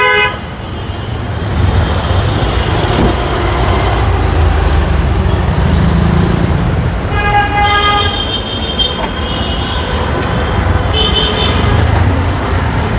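A 2000cc Toyota Noah engine idles with a loud, steady rumble, while several short horn toots sound from nearby traffic in the latter half.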